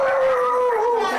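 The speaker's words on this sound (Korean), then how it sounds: "제가 막 다가가면 또 짖을 거거든요" A beagle indoors gives a sustained, wavering howl-like bark at a visitor, close and fairly loud, with no talking over it.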